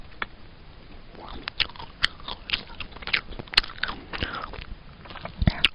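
Sheets of colored paper are bitten and chewed up close for ASMR, giving irregular loud crunches, crackles and sharp snaps spread throughout.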